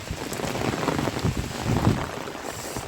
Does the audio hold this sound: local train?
no